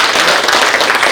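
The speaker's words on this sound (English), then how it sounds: "Will you please applaud for him so that he can walk" Audience applause at a leadership awards event as a guest walks up to the stage, a dense, steady wash of clapping filling the whole short moment at close range.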